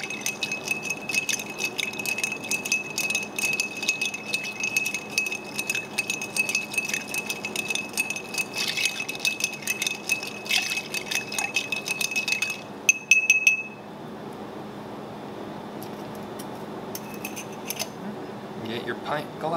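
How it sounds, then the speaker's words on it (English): A bar spoon stirs a cocktail of Jim Beam Vanilla in a mixing glass, giving a rapid, continuous metallic clinking for about twelve seconds before stopping, with scattered clinks afterward. "So you can pretty much use your Uri glass and stir everything together 32 times."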